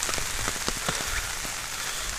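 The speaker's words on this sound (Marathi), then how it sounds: "प्लस पाऊस पडतोय." Steady rain hisses and patters across an open, foggy plateau, with scattered closer drops tapping irregularly and a few frog croaks underneath.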